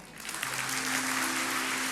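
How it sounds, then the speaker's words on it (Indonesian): A church congregation applauding during a sermon, a dense burst of clapping that rises quickly and sustains evenly for a couple of seconds, with a faint held organ or keyboard tone underneath. "kasih tepuk tangan untuk Tuhan"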